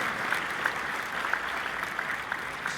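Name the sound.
applause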